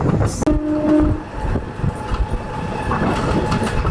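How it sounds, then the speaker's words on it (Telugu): The Simhadri Express runs through a halt station without stopping, a close rattling rumble of wheels with a short horn blast early on and sharp clacks over the joints. "మన ట్రైన్ వచ్చేసిందండి లంకలకోట హాల్ట్ రైల్వే స్టేషన్ అయితే స్కిప్ చేస్తుందండి."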